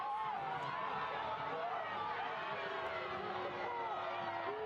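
A home crowd at a Super League women's soccer match between Tampa Bay Sun FC and Lexington SC, angry over uncalled contact, sends up a steady roar of jeers and shouts that fills the stadium.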